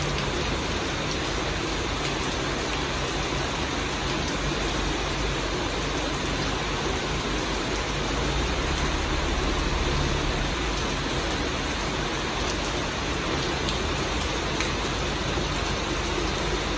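Steady, dense rain at night hissing continuously, with a low rumble of a large truck engine underneath; no voices.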